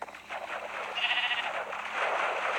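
Sheep in the Minecraft Pocket Edition video game bleat in a soft, overlapping cluster that swells toward the end, several calls running together without talk.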